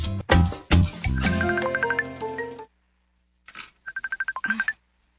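A mobile phone ringtone plays a loud melodic tune for a couple of seconds, pauses, then returns as a brighter series of rapid repeating beeping tones, with no talking over it.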